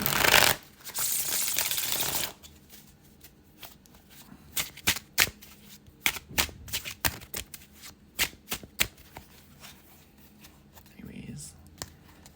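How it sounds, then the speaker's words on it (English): A deck of tarot cards is riffled in a loud burst of dense fluttering, followed by a series of soft, irregular taps and flicks as the cards are set down. "let me just shuffle these cards and see what comes out for you"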